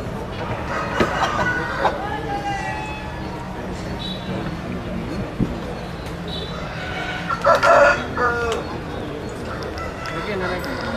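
Roosters crow at a parrot-nose rooster exhibition, with a few loud crows cutting through a busy background of voices and crowd noise, one especially strong crow about two-thirds of the way through.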